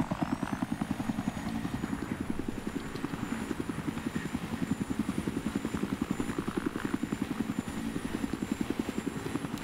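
A military helicopter in the shooter game Battlefield 3 thumps steadily with rapid, even rotor beats, loud and close throughout, carrying on for nearly ten seconds with no break.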